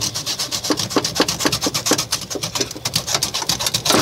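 A blade rasps repeatedly through the plastic of a relay socket on a BS6 pickup's secondary ECU fuse box, making steady rhythmic back-and-forth scraping strokes, loud and close, with no talk.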